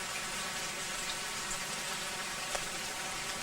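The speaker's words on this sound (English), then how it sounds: "I don't know how many inches of rain, but oh my God, it sure is coming down." Heavy rain pours down steadily during a cold spell on a South African holiday, a dense, even hiss of water with no break and no voices over it.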